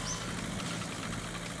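In the video game The Long Drive, a car engine labours uphill with a steady, low droning hum and a faint rattling texture that stays constant throughout.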